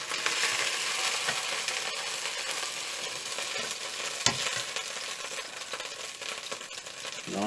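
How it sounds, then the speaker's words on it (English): Veal frying in a pan, a steady bright sizzle running throughout with a few clatters and scrapes of handling, close and fairly loud, no talk. "Fry for about a minute on each side and remove."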